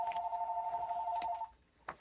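An electronic telephone ring tone holds a steady, clear pitch for about a second and a half, then cuts off, followed by quiet and a single soft knock near the end.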